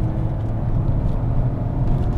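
BMW E46 325i on a race track with the throttle applied, a steady close engine rumble and drone filling the interior without a break.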